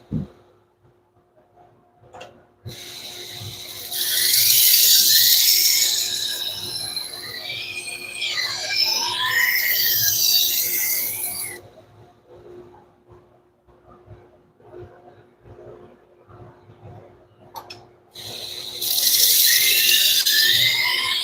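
A knife blade pressed against a running belt sharpener on an AMK76 with a speed controller, making long, loud, high-pitched grinding squeals in two extended passes separated by a quieter gap.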